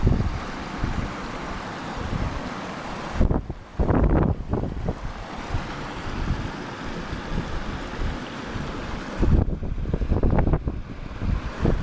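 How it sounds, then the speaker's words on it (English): Strong wind of about 40 miles an hour at a mining site roars and buffets the microphone in loud, turbulent gusts, with brief lulls between blasts. "What is it, about a 40 mile an hour wind out here?"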